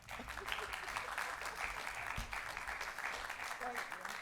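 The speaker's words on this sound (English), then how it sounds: "That's a hand clap" Scattered hand clapping from a small crowd at a Macon-Bibb County commission meeting, steady and moderately loud, with faint murmuring voices mixed in.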